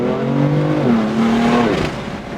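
A car accelerates hard on a mountain road. Its engine note climbs, holds, then shifts and rises again as it pulls away, loud and close, with no talking.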